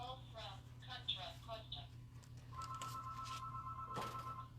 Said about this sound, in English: Oh, of course we're going to have a phone call.